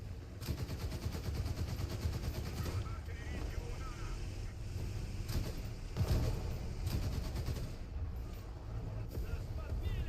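Heavy gunfire and artillery in War Thunder tank combat pound continuously, with sharp repeated blasts over a dense mechanical rumble, loud and close throughout.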